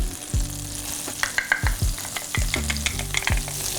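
Shallots and garlic sautéing in melted butter in a pan, a loud close sizzle broken by several quick stirring scrapes, no voices.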